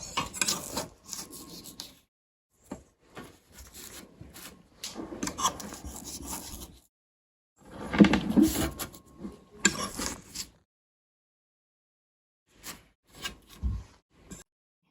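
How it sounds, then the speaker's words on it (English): A spatula scrapes and lifts chocolate cookie dough off the work surface in several close, rasping strokes, broken by silent pauses, with soft clinks near the end. "Lift this off with a spatula."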